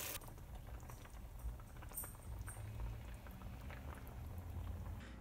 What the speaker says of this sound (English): while the chicken is simmering on the stove